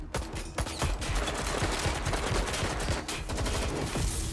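Sustained rapid gunfire from Watch Dogs Legion, loud and close, with overlapping bursts and single cracks rattling continuously throughout without a break.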